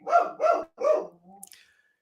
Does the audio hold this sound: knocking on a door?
no